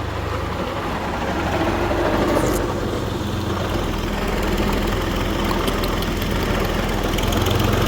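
A tractor engine runs on village ground with a steady, low, throbbing rumble that holds at an even, fairly loud level throughout, with no voices.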